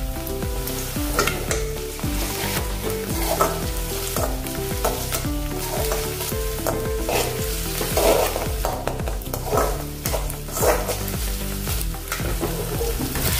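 Steady sizzling of dried red chilies and ginger-garlic paste frying in a hot pan, continuous crackle and spatter with occasional stirring, close and fairly loud.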